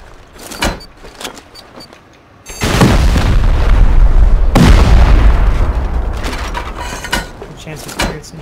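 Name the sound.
C4 explosive blowing a door in the video game Rust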